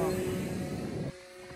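A homemade, scratch-built RC plane flies at full throttle, its motor giving a steady, loud buzzing drone that drops away abruptly after about a second as it passes or cuts back.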